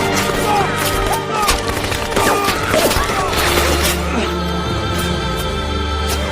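Loud, dense bursts of gunfire crackle continuously over a booming, busy soundtrack, with a steady low drone underneath, in the film Tears of the Sun.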